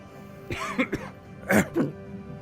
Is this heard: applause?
no